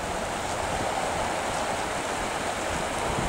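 The Arkansas River near Granite, Colorado runs high and gin clear over pocket water below the Lake Creek confluence, a loud, continuous rushing roar of fast water heard close and alone.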